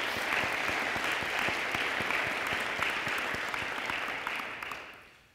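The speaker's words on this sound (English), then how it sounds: "Let's give him a round of applause." At a high school ceremony announcing military scholarships, the audience claps for an honoree in a steady, dense round of applause with distinct individual claps, tapering off over the last second.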